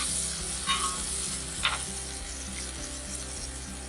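Low country boil with corn cooking on a griddle, a steady close sizzle and frying hiss with a couple of brief louder spatters or scrapes, no talk.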